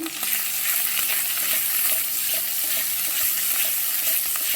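Onion paste and ginger-garlic paste frying in hot oil for a paneer and mixed vegetable curry, giving a steady, close hissing sizzle with faint scraping stirs throughout and no talking.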